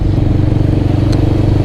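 Kawasaki 250cc touring motorcycle engine running close by, a loud, steady low-pitched throb with a faint clattering texture.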